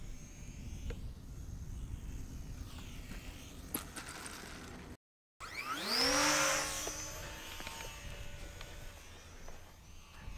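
An electric motor on an Eachine P51D Mustang RC plane fitted with a coarse prop winds up for takeoff. After a brief gap, a loud whine rises quickly in pitch and then holds as a steady buzzing drone with nearby outdoor background noise.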